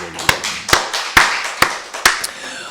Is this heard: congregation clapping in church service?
yes